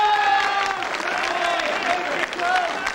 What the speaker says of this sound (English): as you'll gather from all that applause, there's an awful lot of support here from Liverpool tonight